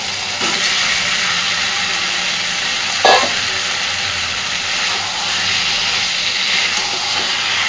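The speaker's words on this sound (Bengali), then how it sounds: "এই পর্যায়ে আমি ম্যারিনেট করে রাখা মাছটা এর মধ্যে দিয়ে দেবো" Marinated stingray pieces land in a pan of sizzling fried masala and potatoes, giving a loud, steady frying hiss with a sharp burst of crackle as the fish goes in.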